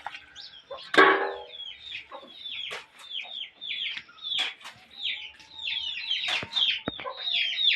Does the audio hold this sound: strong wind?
no